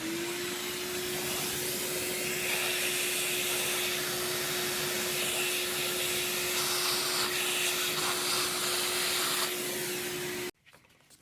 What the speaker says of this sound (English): You're going to hear the vacuum because I'm just going to suck up all the little bits of stuff